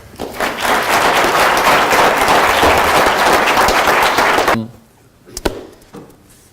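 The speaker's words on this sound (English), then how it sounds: "the executive MBA class decided to stand up and clap" A standing ovation from an executive MBA class at an ethics lecture, loud, dense clapping for about four and a half seconds that cuts off abruptly, leaving a few isolated claps and thumps.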